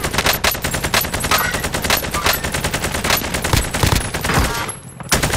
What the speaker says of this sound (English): Being shot up while I'm on the roof